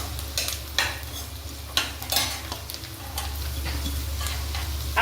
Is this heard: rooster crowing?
no